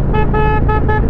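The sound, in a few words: horn of a Harley-Davidson Street Glide 2023 motorcycle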